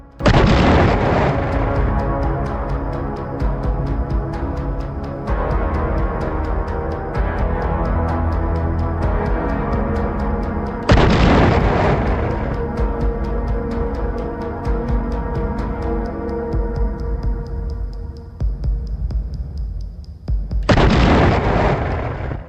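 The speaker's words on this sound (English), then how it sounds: "The first explosion ripped through the lead vehicle" Three heavy booming blasts of FPV drone strikes on armored infantry transport vehicles, spaced roughly ten seconds apart, roll out over a sustained dramatic musical drone.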